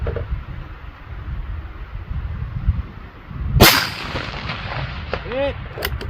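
A single sharp, loud rifle shot from a Ruger American Ranch chambered in 5.56, fired outdoors in strong gusting wind, with a faint metallic ring after; steady wind rumble throughout.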